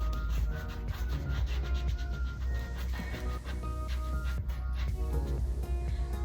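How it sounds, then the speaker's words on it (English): Steady wet sanding rubs a coffee-made faux patina off the body of a 1961 Ford Falcon wagon. It is a continuous close scrubbing with repeated back-and-forth strokes and no talking. "A little bit more wet sanding."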